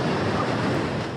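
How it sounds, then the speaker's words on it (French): Ocean surf rolls onto a surf beach on Lanzarote, a steady broadband wash of breaking waves with some wind, brief and continuous, no voices. "Avec la plage ici, vous avez des vagues parfaites pour apprendre."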